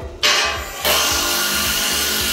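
Power tool driving anchors and bolts into structure during reinforcement work at a café construction site, a broadband grinding whir starting abruptly then surging louder and holding steady, with faint rhythmic knocks underneath, no talk.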